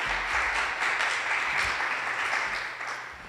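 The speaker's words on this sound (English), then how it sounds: "let's give our panel a round of applause" Audience applause after a student panel on social justice, a steady wash of many hands clapping that stays fairly even and tapers slightly toward the end, with no talk over it.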